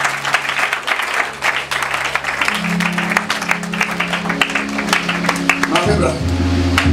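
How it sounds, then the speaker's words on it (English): A congregation at a prayer and fasting service claps loudly in quick, irregular bursts for about six seconds over sustained musical tones, then the clapping thins as the music shifts. A voice speaks over the clapping. "Oh, you are clapping, doing better."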